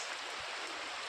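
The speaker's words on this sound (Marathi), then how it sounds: "असं जोरात पाऊस पडतोय" Heavy rain pours down in a dense, steady hiss at low level, with no break or other sound standing out.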